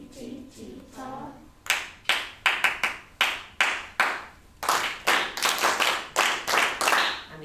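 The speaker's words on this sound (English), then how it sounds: "so that they can do the clapping all together as a team" Year 4 pupils at a Christmas sharing session clap together in rhythm as a team, sharp unison claps in patterned groups, loud and near, following a brief spoken or sung phrase at the start.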